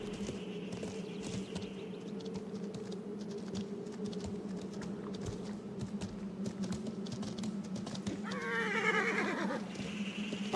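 A horse in the medieval game Life is Feudal whinnies near the end, a short rising neigh over a steady buzzing drone of insects and ambient hum that runs throughout.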